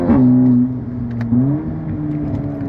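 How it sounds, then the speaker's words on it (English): Turbocharged 2-litre IS38 engine in a VW Golf GTI TCR or Seat Leon Cupra 280 accelerating on a road, heard from inside as a loud steady drone whose pitch rises, dips briefly, then climbs again. "Right from low RPMs, the engine pulls, the turbo spools up very quickly, and it pulls all the way to the red line"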